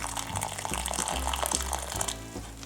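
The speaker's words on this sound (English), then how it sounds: "into a bowl, we're going to place in about 2 cups of boiling water" About two cups of boiling water poured into a bowl, a brief close splashing and gurgling pour with a shifting pitch, loud and alone.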